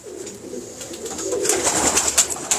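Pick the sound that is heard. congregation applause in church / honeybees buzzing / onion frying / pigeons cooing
pigeons cooing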